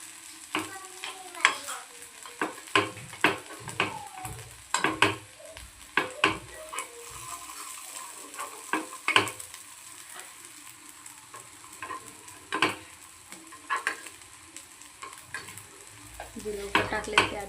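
Sabudana vada sizzle steadily in hot oil in a pan while a utensil clatters and scrapes as the patties are flipped, sharp taps recurring throughout over the constant frying hiss.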